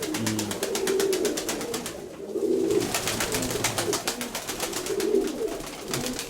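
Pigeons coo repeatedly in a loft with fancy pigeons, soft throaty calls recurring close by over a steady rhythmic background clatter.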